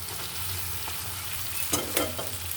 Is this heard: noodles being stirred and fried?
yes